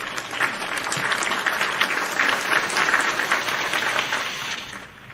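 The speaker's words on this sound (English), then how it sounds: "round of applause" A round of crowd applause greets a guest on a live wrestling talk show, thick continuous clapping that holds steady for several seconds before tapering off at the end, with no voices over it.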